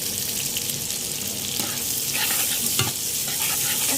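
Bitter gourd frying with salt in a pan, stirred with a spatula: steady close sizzling with scraping strokes and a few sharper clinks, continuous and fairly loud with no talking.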